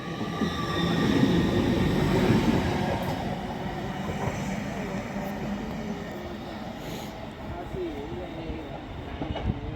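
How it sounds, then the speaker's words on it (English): A British Rail Class 802 train rumbles steadily nearby at Northallerton station, its low drone and rail noise filling the scene, with faint voices faintly audible underneath. "on the approach is a 802 from Liverpool to Newcastle."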